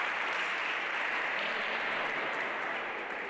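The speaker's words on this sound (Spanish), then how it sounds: "Aplausos en el municipal de Oira" Steady, dense applause fills a municipal sports hall before a regional women's handball match, a continuous wash of clapping at even volume with no voices standing out.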